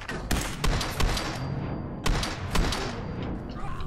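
Rapid bursts of gunfire in the Fallout 4 video game, several loud sharp volleys in quick succession with dense rattling shots filling the clip.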